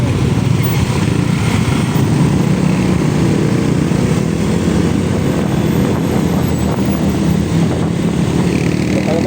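A motorcycle engine runs steadily and loudly, close by, a constant droning rumble with no breaks, alone without speech.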